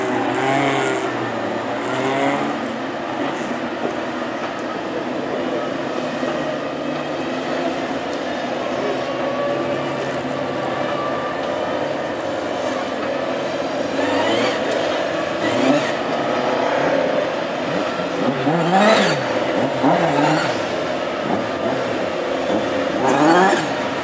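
Classic hot rod race cars, including a Hillman Avenger and two BMC cars, rumble around behind a pace car on a rolling lap start at Hednesford, a loud continuous engine drone with revs rising and falling, under a commentator's voice.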